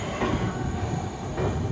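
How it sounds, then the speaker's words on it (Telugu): A passenger express train rolls into platform 1 at Dimapur, a dense, loud rumble of wheels and carriages with a faint squeal, heard close by with no talk. "దీమాపూర్కి మన ట్రైన్ ప్లాట్ఫామ్ 1 అయితే వచ్చింది"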